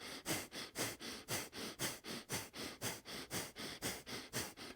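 Rapid, rhythmic breath of fire yoga breathing during a kundalini kriya, about three to four sharp nasal exhalations per second in an even, close, steady pulse with no talking.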